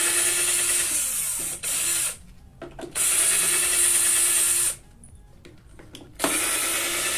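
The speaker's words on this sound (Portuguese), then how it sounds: "Eu preciso retirar esses parafusos aqui outra vez." A power drill backs screws out of a wooden jig in several whirring bursts separated by short pauses, close and fairly loud.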